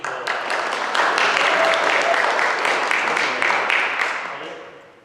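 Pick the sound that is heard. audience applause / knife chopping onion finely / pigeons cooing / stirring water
audience applause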